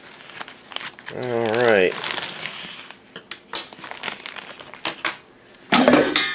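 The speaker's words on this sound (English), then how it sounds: "so let me cut open the bag" A plastic bag of frozen mac and cheese shrimp bites is cut open, giving loud crinkling and crushing of plastic in bursts, with a person speaking before and after.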